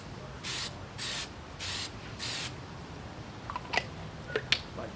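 Four short spray bursts of cold galvanizing compound being applied to steel, each a hissing aerosol blast about half a second long with brief pauses, followed by a few light clicks and taps.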